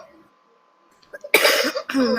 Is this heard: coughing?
yes